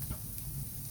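Saltfish fritters frying in oil in a pot: a soft, steady sizzle and bubbling, quiet and close, continuing evenly with faint crackles and no talking.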